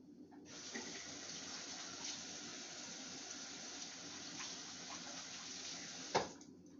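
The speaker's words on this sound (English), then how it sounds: "let me wash my hands" A kitchen tap runs in a steady, close splashing hiss while hands are washed, then ends with a sharp clunk as the flow stops.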